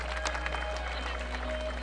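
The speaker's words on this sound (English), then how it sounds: "Nice round of applause as Cooper walks off the field after pitching" A baseball crowd at a high school game claps as the pitcher walks off the field, a modest patter of applause with a commentator talking over it.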